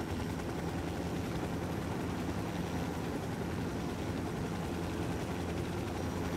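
Steady, dense rotor and engine roar of a helicopter touching down in Ghost Recon Wildlands, loud and unbroken throughout with no talk.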